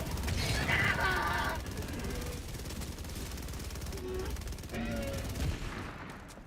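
Rapid machine pistol fire in Helldivers 2, steady bursts under layered battle noise and mechanical clatter, moderately loud for the whole stretch.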